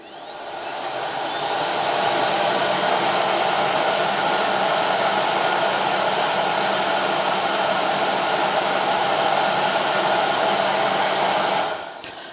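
Bosch Unlimited 10 cordless vacuum cleaner running: it spins up with a rising whine, holds a loud, steady high-pitched roar for about ten seconds, then powers down.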